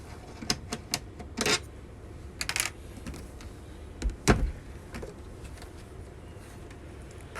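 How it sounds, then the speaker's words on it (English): Screws being removed from a 4D HIFU machine, with scattered sharp metallic clicks and taps of a screwdriver and handled parts, close and fairly quiet, with a loud knock near the middle and no talking. "Take off the 2 screws."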